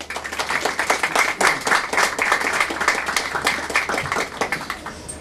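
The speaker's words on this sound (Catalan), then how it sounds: "Un aplaudiment per a tots els personatges" An audience at a local commemorative event honours costumed performers playing historical characters, including a knight, with brisk, dense clapping. It holds steady and fairly close throughout the clip, with no talking over it.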